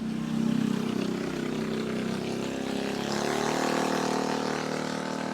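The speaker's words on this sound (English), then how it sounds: "Got somebody riding on their motorbike." A motorbike rides past somewhere in a residential neighborhood, a steady droning engine hum that swells and fades at moderate distance, with no talk over it.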